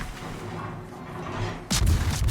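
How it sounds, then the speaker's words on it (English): A torpedo launch from the cruiser Plymouth in World of Warships begins as a low ambient rumble, then a sudden loud booming burst lands about two-thirds of the way through. "I'm gonna pre-launch my torpedoes here"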